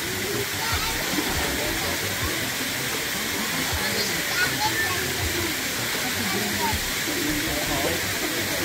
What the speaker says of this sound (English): another mini waterfall that leads into a hot tub.